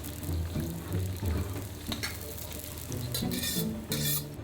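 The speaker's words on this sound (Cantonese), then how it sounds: "我哋爆香佢先。" Scallion heads stir-fried in a pan for a Cantonese ginger and scallion oyster dish give off a sizzle with bursts of frying hiss, scraping and stirring clatter, and a few light clinks close by.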